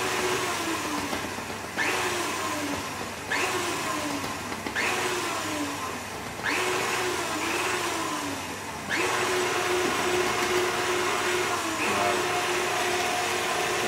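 Electric mixer whirring steadily through a thickening cake batter after flour is added, for a bûche with chocolate and exotic fruit; the motor drone holds continuous and loud, with brief scraping shifts every couple of seconds as the bowl is worked.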